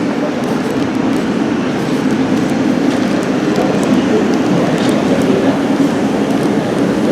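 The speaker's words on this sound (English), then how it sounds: "We're on the platforms for Thameslink." Steady loud rumble of a Thameslink train on a platform at a London station, continuous broadband noise throughout with no break, close and enveloping.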